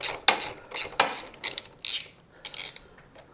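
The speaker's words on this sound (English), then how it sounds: "Take the nut off this end." Metallic ratcheting from a socket wrench loosening a nut off a linkage bolt on a 2024 Kawasaki KLX300 during swing arm and drag link bearing service, heard as several close, quick bursts of clicks separated by short pauses.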